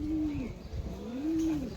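Pigeons cooing close by at a pigeon sale, two soft, low, rolling coos in succession over a faint background hum.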